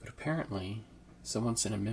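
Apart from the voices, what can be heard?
No everyday noise stands out behind the speech.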